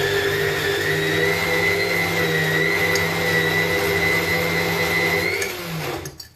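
A mixer grinder blends thogayal in a steady, loud whirring drone with a high motor whine, running continuously before winding down and stopping near the end.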